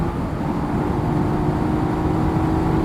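A Yamaha XSR900 motorcycle accelerates hard at high revs, engine note loud and continuous with a steady harmonic whine, no pauses for shifts evident, close and without talk.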